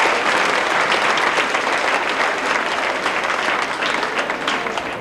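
Loud, sustained applause fills the hall at a traditional step dance festival workshop showcase, a dense wash of many hands clapping continuously without a break.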